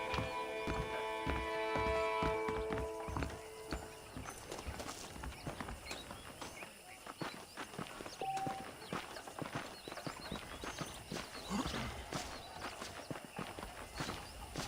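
Horse hooves clip-clop steadily in a brisk rhythm in the video game Red Dead Redemption, close and continuous, with a brief musical tone at the start and faint background ambience.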